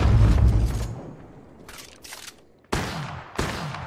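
Gunfire in Apex Legends Mobile breaks out in sharp, loud bursts, starting with a heavy volley and followed by several separate cracks with quieter gaps between.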